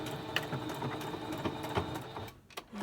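A sewing machine back stitching a pleated fabric mask runs in close, steady mechanical bursts with a few sharp clicks, then stops briefly near the end before starting again.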